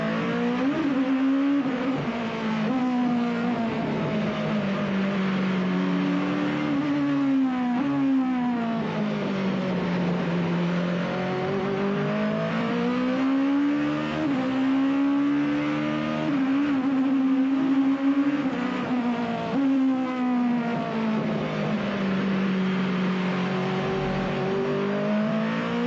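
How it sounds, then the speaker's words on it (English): A GT500 race car at Fuji Speedway accelerates hard through repeated gear changes, engine pitch rising and falling in sweeping waves as it laps, loud and continuous with no talking. "Max is going to drive a GT500 car for the first time"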